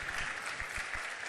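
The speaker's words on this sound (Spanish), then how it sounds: "Dele aplauso al Rey de Reyes si lo cree." Church congregation applauding, a brief, even burst of clapping from many hands at moderate volume with no talking.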